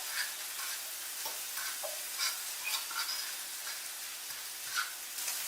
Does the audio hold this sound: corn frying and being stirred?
yes